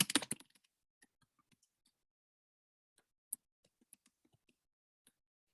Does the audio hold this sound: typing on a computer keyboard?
yes